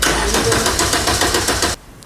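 An old car's engine cranks on a restart attempt, with the starter turning over in a fast, even rhythm, loud and close, then stopping abruptly.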